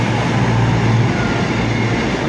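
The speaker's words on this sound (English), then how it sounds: "Here comes my train." Loud, close rumble of a Cross Country Voyager diesel train rolling into a station, a steady dense roar with a low engine hum and no voices.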